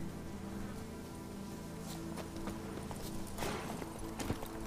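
In the video game Witcher 3: Blood and Wine, a horse's hooves clip-clop faintly as it is ridden, a steady soft patter over a constant low background hum.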